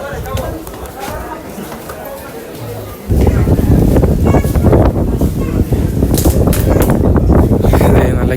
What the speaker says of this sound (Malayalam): കിടിലം കാറ്റുണ്ട് കേട്ടോ